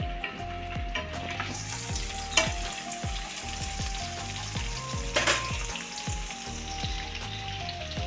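Peanuts frying and being stirred in a pan for Bombay rava upma, a continuous close sizzle broken by regular scraping strokes of the spoon, with no voices.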